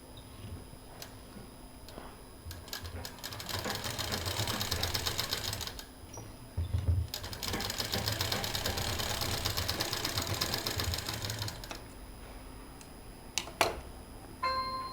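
A sewing machine stitches fabric for a traditional bandanvar, running in two sustained bursts of rapid ticking hum with short pauses and handling clicks between them.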